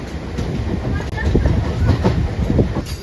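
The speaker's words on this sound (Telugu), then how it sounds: "ఫైనల్గా ట్రైన్ అయితే తిరుపతి నుంచి చెన్నైకి స్టార్ట్ అయింది" A passenger train from Tirupati to Chennai rolls along at steady speed, its rumble and rhythmic wheel clatter loud and continuous around the carriage, with wind noise and a brief bump partway through.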